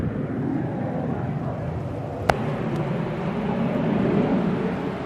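An airplane takes off at Manchester Airport during stormy weather, a broad steady engine roar at a moderate distance that swells slightly toward the end, with a brief click partway through.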